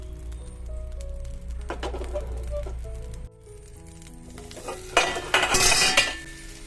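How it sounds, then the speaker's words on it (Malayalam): Slices of nendran banana fry in ghee in a frying pan, a soft sizzle beneath scattered clinks and scrapes of a utensil, rising to a louder burst of stirring and pan clatter near the end. "ഒന്ന് ചൂടായി വരുന്ന സമയത്ത് ഈ പഴയിട്ടിട്ടൊന്ന് വാട്ടിയെടുക്കണം"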